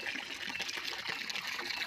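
Water running into a cattle water trough on a farm, a faint steady trickle and splash heard alone at low level.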